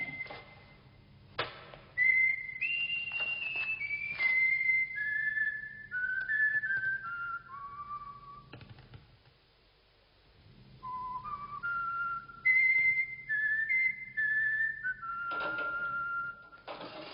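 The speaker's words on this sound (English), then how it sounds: "We have a visitor, a guest, and he's whistling. That's a nice whistle." A man whistles a slow melodic tune in a quiet indoor space, clear sustained notes gliding up and down in two phrases separated by a brief pause, over a faint low hum.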